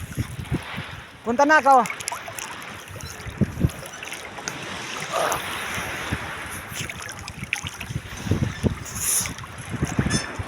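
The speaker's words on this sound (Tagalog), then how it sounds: "Lakas ang alon." Strong sea waves surge and wash continuously at a shore, loud wind buffeting the microphone throughout, while people talk over the rough water.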